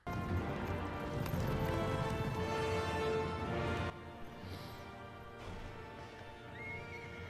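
Horses neigh and whinny loudly over galloping hooves in a Lord of the Rings film battle scene, a dense roar of sound that drops to a quieter level about halfway through, with another whinny near the end.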